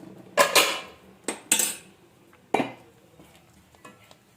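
A spoon stirs a jaggery syrup mixture in a metal pot, producing a few close, sharp scraping clanks in uneven bursts with quieter gaps between them. No voices.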